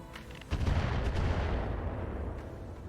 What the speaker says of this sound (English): that airstrike is still ongoing